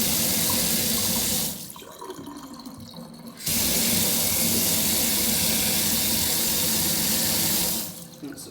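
Water from a stainless steel kitchen faucet gushes loudly into a sink, cuts off briefly, then runs again at full flow before stopping near the end; close, steady rushing with no talk.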